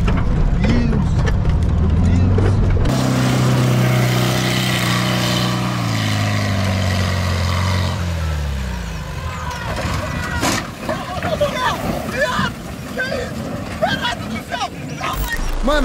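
A Volkswagen Beetle (Fusca) engine strains loudly as the car climbs a dirt slope, its revving tone sweeping down over several seconds before rough, bumpy mechanical noise takes over, with people shouting in the background.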